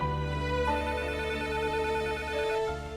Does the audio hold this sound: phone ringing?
yes